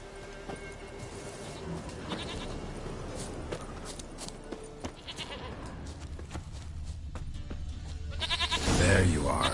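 A goat bleats in the video game The Witcher 3: Wild Hunt, with a loud wavering bleat near the end over quiet ambient noise and footsteps.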